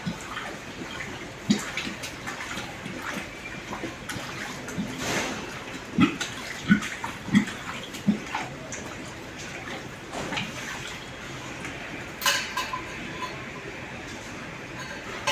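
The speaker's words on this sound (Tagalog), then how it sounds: "Sige, lagyan mo pa tubig." Water poured steadily into a drain during drainage repair on a third floor, a continuous splashing wash with occasional clinks and knocks, close by, with people talking briefly in the background.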